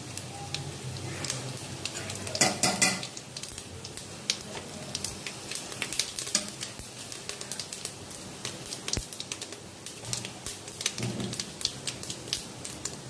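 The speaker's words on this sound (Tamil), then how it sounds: "சோம்புலாம் நல்லா பொரிஞ்சிருச்சு" Whole spices of fennel seeds, cinnamon and bay leaves fry in hot oil in a pan, a soft continuous sizzle broken by crackling pops and clicks, heard close up with no talking.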